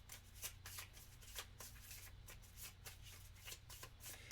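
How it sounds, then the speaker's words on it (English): Playing cards are shuffled close up, a soft rapid riffling flutter repeating in quick bursts, quiet and without talk. "and we're going to shuffle."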